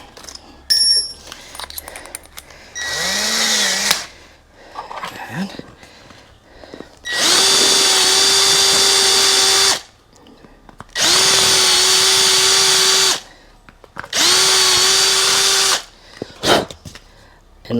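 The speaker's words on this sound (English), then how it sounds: "Get the 12 mil Christmas tree bit." A power drill with a 12 mm step bit bores holes in a motorcycle side cover for a relocated switch, giving three loud, steady high-pitched whirring runs of about two seconds each, close by, with shorter handling sounds and brief bursts before them.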